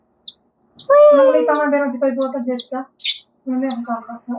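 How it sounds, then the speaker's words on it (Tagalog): A baby chick peeps and chirps in short, bright, high calls, close and loud, repeating in quick bursts with brief gaps between them. "ito yung sisiw ko"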